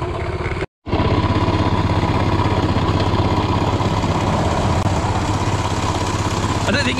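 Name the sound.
postie motorcycle engine running at idle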